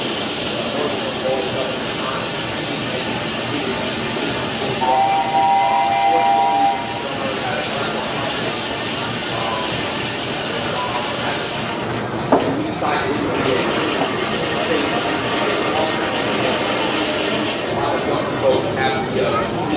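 A 65 horsepower steam traction engine in a street parade hisses steadily under crowd noise and nearby talk, with a short whistle partway through and a sharp change in the hiss near the middle.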